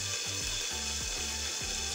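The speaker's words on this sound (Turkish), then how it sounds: "Evet, biberlerimiz de bu şekilde kızarmaya başlıyor." Peppers frying in a pan give off a loud, steady sizzle and crackle that runs the whole time, alone with no talk.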